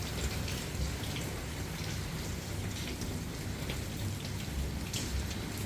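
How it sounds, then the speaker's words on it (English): Heavy rain pouring onto a back patio, a dense steady hiss with scattered louder drops, continuous and close with no voices. "it is raining really heavy today, and I like the sound of the rain"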